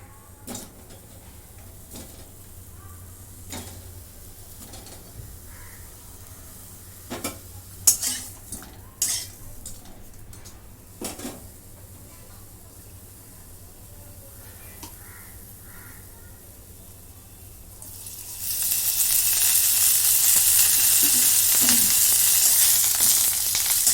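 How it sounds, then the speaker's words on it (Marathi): Scraping and stirring clatter in a wok for the first stretch, then a loud, steady sizzle rises abruptly as bitter gourd hits the hot oil. "आता या गॅसमध्ये कढईमध्ये मी ही कारले टाकून घेते"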